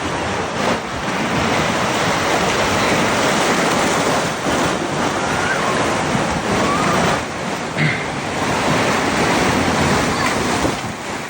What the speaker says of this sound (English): now it's time for you to check that hopefully natural movement of water